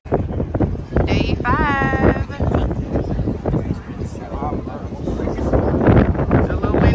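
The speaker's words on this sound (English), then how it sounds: "It's a little windy out here." Gusty wind on an island, on the way to the beach, buffets the microphone with steady low rumbling and bursts, while voices talk and a brief high whistling tone rises and falls.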